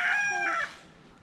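A rooster crows on a farm with pigs and chickens, a single short, fairly faint call that rises and holds briefly before it cuts off and trails away.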